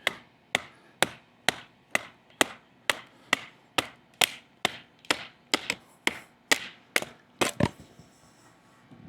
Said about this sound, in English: let's go ahead and let's baton through this guy right here